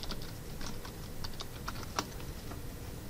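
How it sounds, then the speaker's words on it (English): Keys on a computer keyboard are tapped softly at a steady, irregular pace, a quiet string of close clicks with one sharper stroke near the middle, and no one talks. "You type out what you'd like"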